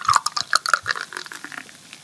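Beer pours into a glass close by, with bubbly gurgling and fizzing pops that come in quick bursts and fade as the glass fills.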